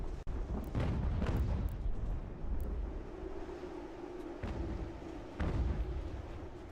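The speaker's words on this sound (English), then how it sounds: "Our cannons are really doing a great job" Cannon fire in the Ultimate General: American Revolution strategy game, a sustained, dense low-frequency rumble of artillery with a few sharper blasts standing out, loud and continuous throughout.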